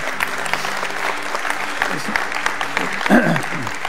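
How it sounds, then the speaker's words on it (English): A church congregation breaks into steady, full applause that fills the room throughout, with a voice speaking over the clapping. "you can clap for that"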